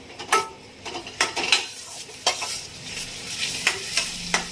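Finely chopped onions sautéing in a pan for Mysore masala dosa bhaji, stirred with a metal utensil: soft frying sizzle under irregular scraping clinks against the pan, close by with no voices.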